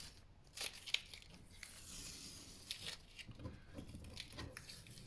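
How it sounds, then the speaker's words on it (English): Strip of tape peeled slowly off a handmade Valentine's card, a quiet papery tearing and crinkling with a few sharper rips, close and faint with no voice. "just pull the tape off"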